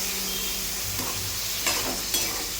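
Cowpea beans tipped into a hot pan and stirred, a steady close sizzle with a few scraping accents from the spoon, no voices.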